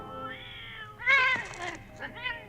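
A cat in the 1971 film Diamonds Are Forever gives several drawn-out meows, some strained and wailing, close and clear over soft movie background sound.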